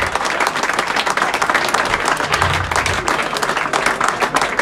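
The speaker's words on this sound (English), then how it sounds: "I think that deserves a big round of applause." A rugby club crowd applauds a player's 50th consecutive game at a post-match clubhouse gathering, a full, steady roar of many hands clapping at close range throughout.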